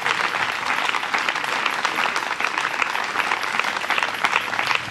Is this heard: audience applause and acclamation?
yes